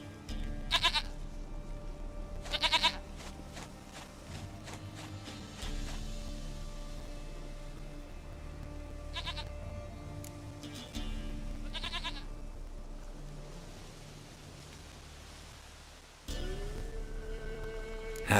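Goat bleats in The Witcher 3 video game, a few short separate cries spread over a long stretch of quiet game ambience and background music, moderately faint.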